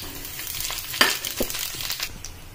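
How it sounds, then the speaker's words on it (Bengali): Whole spices for a Bengali-style bhetki fish kalia sizzle in the oil left from frying the fish, a soft steady crackle with a few sharper pops and stirring clicks, close but fairly quiet and without talk. "এবার ওই তেলেতেই আমি ফোড়নটা দিয়ে দেবো।"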